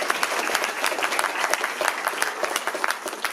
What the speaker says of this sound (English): a round of applause for my mum